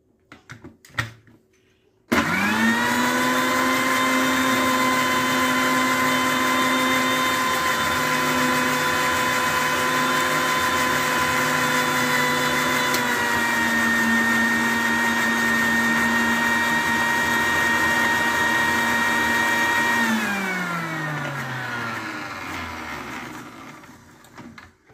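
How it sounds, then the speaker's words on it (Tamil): A mixer grinder whirs loudly for about eighteen seconds as spices are ground for Mysore rasam, a steady motor whine with a shift in pitch midway, then winds down and fades out. "இப்போ இந்த நைஸாக அரைச்சி வச்சுருக்கேன் மிக்சியில்"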